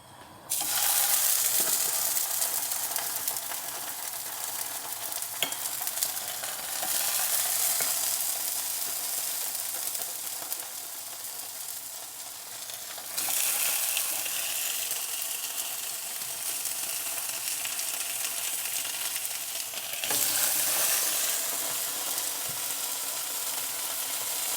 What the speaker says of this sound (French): c'est vraiment le fait de bien faire griller le tofu